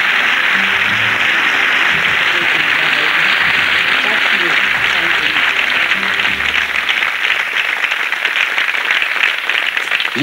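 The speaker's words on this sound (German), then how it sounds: "Applaus" A television studio audience applauds a guest at a celebratory gala, a dense, sustained wash of clapping that stays loud throughout, with a little crowd noise underneath.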